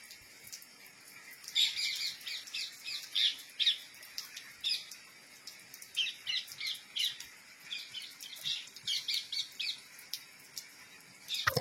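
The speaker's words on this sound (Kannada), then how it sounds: "ಆ ಗಿಳಿಗಳು ಮತ್ತೆ ಬರ್ತವೆ, ಮತ್ತೆ ಹಂಗೆ ಕಿತ್ತಾಡ್ಕೊಂಡು ಆ ಮರದಿಂದ ಈ ಮರಕ್ಕೆ," Parrots squawk and chirp in repeated sharp bursts as they fight and fly between trees, including amla and guava trees, with calls coming steadily through the clip at moderate loudness and no talk.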